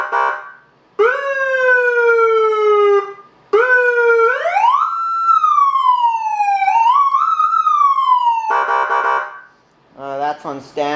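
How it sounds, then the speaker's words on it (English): A police siren mounted on a bike sounds close and loud, rising and falling through wailing sweeps with a short gap between bursts, then switches to a rapid warbling tone near the end. "So I'm going to turn the siren on."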